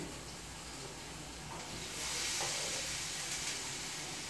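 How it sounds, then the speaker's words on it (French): Onions frying in butter or oil, a steady soft hiss and sizzle that swells slightly midway and holds at an even, fairly quiet level throughout. "je vais commencer à faire mes oignons avec du beurre ou bien de l'huile"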